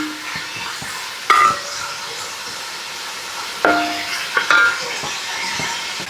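Onions sauté in a pan for a tomato rice dish, with a low steady sizzle under a few loud metallic knocks and scrapes from a spoon against the pan.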